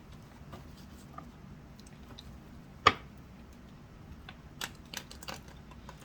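Tarot cards shuffled by hand, soft scattered taps and papery flicks with one crisp snap of cards midway, close and quiet, with no talking.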